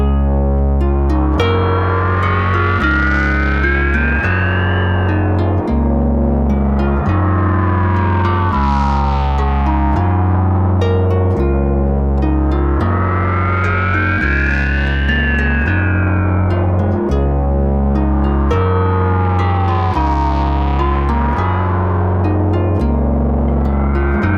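A harp-like plucked pattern processed through a filter pedal and ring modulator pedal synced by an Old Blood Noise Endeavors Expression Ramper X3, pulsing filter sweeps and metallic tones swelling and falling in a steady rhythmic cycle, with no voices.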